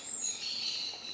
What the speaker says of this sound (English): It's fucking birds.